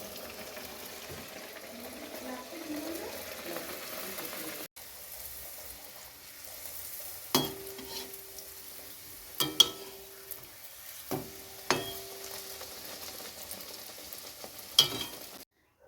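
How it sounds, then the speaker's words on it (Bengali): Pea-stuffed kachoris fry in hot oil in a wok, a quiet, steady sizzle broken by a few sharp clinks and knocks of a utensil. "এবারে এক এক করে কচুরিগুলো ভেজে নেব, মটরশুঁটির কচুরিগুলো"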